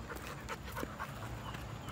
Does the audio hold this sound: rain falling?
no